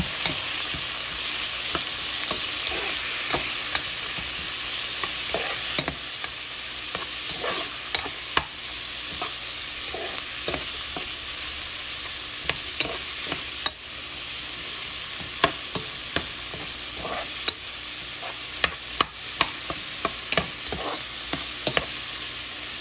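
Tomatoes frying in a pan while being stirred, a steady sizzle broken by frequent short scrapes and clacks of the utensil against the pan, with no talking.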